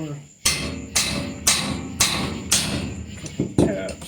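Hammer tapping a flywheel puller to free a lawn mower flywheel, with six or seven sharp metallic knocks at roughly half-second intervals, close and moderately loud, the last few lighter and quicker.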